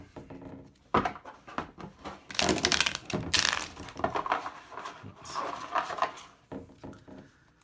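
Numinous Tarot cards with glossy cardstock being shuffled close by, a run of papery riffling and flicking bursts with brief pauses between handfuls, no voices.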